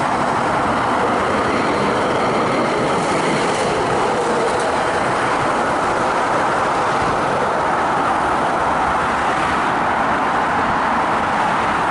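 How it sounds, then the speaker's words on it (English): A Melbourne B-class tram on Route 64 passes along a street, a loud, continuous rumbling roll with rail clatter that stays close and steady for around twelve seconds and has no talk over it. "Got another Route 64 tram coming through."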